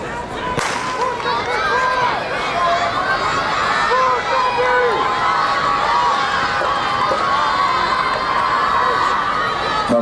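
Crowd at a track championship meet cheers and shouts loudly throughout a girls' 4x100 meter relay final, a dense roar of voices with children's yells rising and falling.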